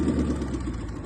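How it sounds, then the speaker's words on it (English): A twin-turbo supercharged car engine set up with a transbrake rumbles loudly and steadily up close in a short throttle blip, with a deep, even growl and no voices. "left foot on the brake, and then blip the throttle to get into mode"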